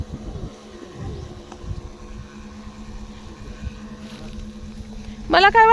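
A small battery-powered water sprayer pump hums with a steady buzzing whine throughout while watering pomegranate saplings, joined by a loud, bright voice near the end.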